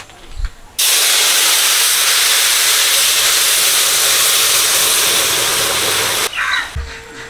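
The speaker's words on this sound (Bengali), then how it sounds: "তেজপাতা, সর্ষের তেল, ফুটানো ডাল দিয়ে দিচ্ছি, ফোড়ন রেডি।" Boiled dal poured into hot mustard oil tempered with bay leaves bursts into a loud, sustained sizzling hiss lasting several seconds, then cuts off abruptly into quieter kitchen sounds.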